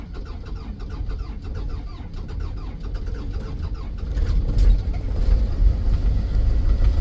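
Vehicle engine cranking and starting in freezing wind-chill weather, a rhythmic starter churn that catches into a louder, deep rumbling idle close by, no talking.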